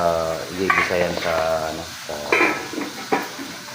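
Bitter gourd (ampalaya) sautéing in a pan, with loud close sizzling and bursts of stirring and hissing steam that swell and fade irregularly, without speech.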